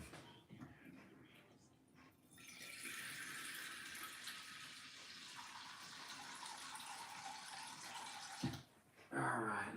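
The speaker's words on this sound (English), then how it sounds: "See, put some water in here." Water rushes steadily into a cast iron pan for several seconds, loud and close, then cuts off before a short clatter at the end.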